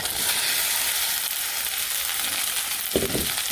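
Okra and onion fry in a hot pan with a steady, close sizzle that fills the whole stretch, broken near the end by a brief scrape of stirring.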